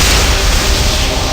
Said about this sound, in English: the entire cave was engulfed in an explosion of blinding light